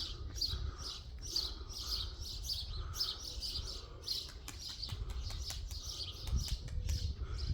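Small birds chirp and tweet repeatedly in a bright, steady chorus at early morning, fairly close, with a soft low background rumble and no talking.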